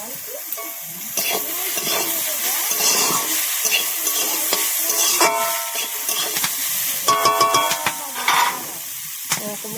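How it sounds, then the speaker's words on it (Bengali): Vegetables stir-fry in a pan for vegetable chow mein: a close, hissing sizzle under repeated clattering spatula scrapes and metallic taps, with bursts of quick stirring near the end. "এটাকেও ভালো করে ভেজে নেবো বন্ধুরা।"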